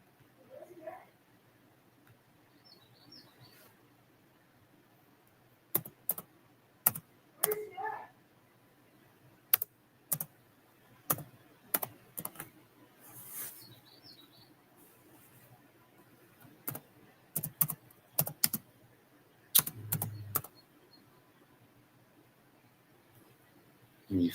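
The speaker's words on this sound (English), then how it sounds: "Maybe I'm typing it in wrong." Sporadic keystrokes on a computer keyboard, scattered sharp clicks in small clusters separated by quiet gaps, close but soft, with occasional faint vocal sounds in between.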